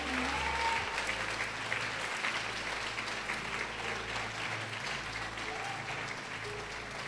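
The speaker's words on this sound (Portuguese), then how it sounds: "Pode aplaudir o Senhor e glorificá-lo." A church congregation applauds during a sermon, sustained clapping from many hands at a steady moderate level, with a low hum underneath and no one speaking.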